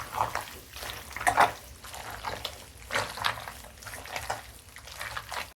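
Sparkling mineral water pours into a bowl of shashlik marinade in short, uneven splashy bursts, fairly quiet and close, with no talking.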